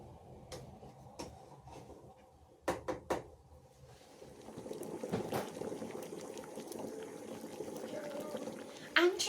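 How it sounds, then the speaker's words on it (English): A pot of water at a rolling boil with a couple of eggs in it, the bubbling rising into a steady broadband hiss after a few knocks and clatters from the kitchen. "My water has finally begun to come to a nice boil"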